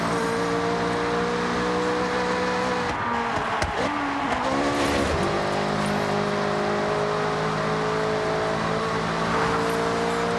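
Race car engines drone loud and steady in the racing game Forza Horizon 6, a sustained high revving tone with a brief rumble and shift in pitch midway, like passing through a tunnel.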